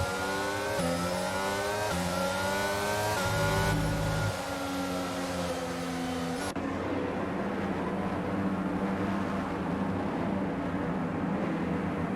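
Formula One cars idling and revving on the starting grid of the Bahrain race in F1 2023, loud layered engine tones rising and holding, then a steady engine roar.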